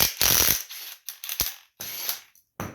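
A ratchet on a 25 mm socket turns the blade bolt of a John Deere LA145 riding lawn mower, heard as several loud, close bursts of coarse clicking separated by short gaps.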